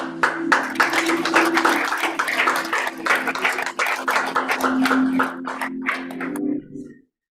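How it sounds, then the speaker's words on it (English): An audience at a book launch gives a steady round of hand clapping after a poetry performance. It is fairly loud and sustained, with a low hum beneath it, then fades out abruptly. "Can we give him another round of applause?"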